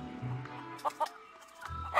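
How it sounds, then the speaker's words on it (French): Chickens cluck in the video game Monkey Island 3, a few short clucks over a low game background, with brief low hums at the start and end. "Il y a beaucoup de poulets quand même."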